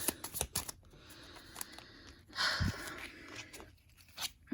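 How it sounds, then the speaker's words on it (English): Tarot cards being shuffled by hand, a quiet close series of crisp flutters and soft slaps with a brief louder riffle midway and a few sharp taps. "Final shuffle here."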